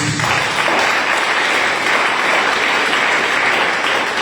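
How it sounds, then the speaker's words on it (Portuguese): A church congregation at a missions service gives loud, sustained applause, a thick wash of clapping from many hands that holds steady throughout. "Vamos receber o servo do Senhor com um forte aplauso para Jesus"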